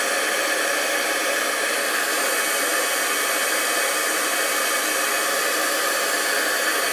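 A heat tool blows hot air over a card, a steady broadband whoosh held at an even, fairly loud level throughout with no talking.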